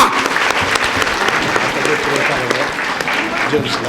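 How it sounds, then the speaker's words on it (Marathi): Loud, dense applause from an audience at a jewellers' prize-giving event in Pandharpur, steady clapping throughout with a voice speaking over it. "वाव जोरात टाळ्या"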